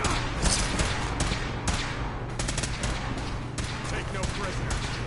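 Gunfire crackles in a Fallout 4 battle in dense, overlapping bursts of rapid shots and heavier blasts, with the combat raging continuously and loudly throughout.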